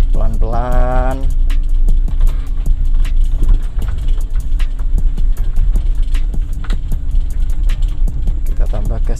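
A car engine running close by with a low, steady rumble while the throttle is eased up gently with the clutch in use; someone talks over it.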